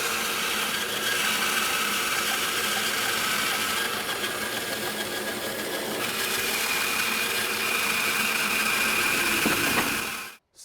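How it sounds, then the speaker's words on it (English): A bandsaw resaws a wooden board held flat against the fence, cutting steadily with a continuous broadband whine and hum at close range for about ten seconds before cutting off abruptly. "As long as I keep this board flat to that fence, and I give that blade a chance, carry away that sawdust, it'll be perfect resaw."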